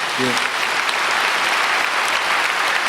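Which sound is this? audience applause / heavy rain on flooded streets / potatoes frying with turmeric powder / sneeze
audience applause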